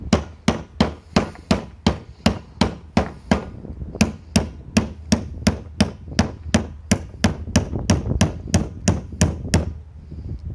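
Ganzo G7511 folding knife chopping into a live, freshly cut tree: about two dozen sharp wooden thwacks in a steady, fairly fast rhythm, close and loud, with no talking.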